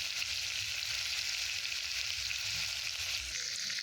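Sheep leg meat fries in oil with salt and turmeric, giving a soft, continuous sizzle with faint scraping from stirring underneath.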